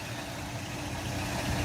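A 2008 Scania K340EB Irizar Century coach with a Euro 4 diesel engine and no AdBlue idling, a steady, loud, broad rumble held without change and heard up close, with no voices.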